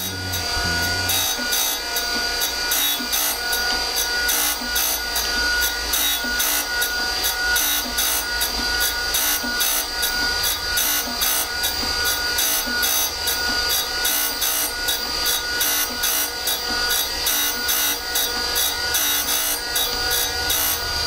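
A surface grinder takes light passes across a steel V-block, a loud, even, rhythmic scraping hiss repeating with each stroke of the table, with no talking.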